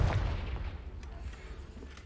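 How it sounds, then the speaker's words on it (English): A Confringo spell blast in Hogwarts Legacy hits as a loud, close boom at the start, then rumbles and fades over a couple of seconds with faint crackling debris. "Just because you whispered the word doesn't make the explosion any less loud."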